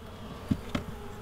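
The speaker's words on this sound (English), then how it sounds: "These bees are not happy that I'm pestering them this late in the day." Honey bees buzz at a hive late in the day, a steady low drone with two louder passes as individual bees fly close by, no talk.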